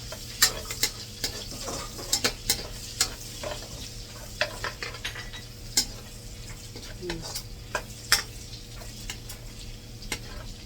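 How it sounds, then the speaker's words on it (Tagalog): Garlic frying in oil for fried rice, a soft steady sizzle punctuated by frequent sharp ticks and clinks of a utensil stirring against the pan. "papulahin muna natin ng konti yung bawang kasi masarap yan sa fried rice"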